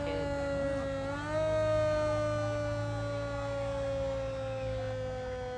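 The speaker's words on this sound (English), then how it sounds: "As they ring the sirens" Fire truck sirens wail steadily at a community parade for the Pro Football Hall of Fame Enshrinement Festival, a loud sustained tone that dips and rises slightly, with a low engine rumble beneath.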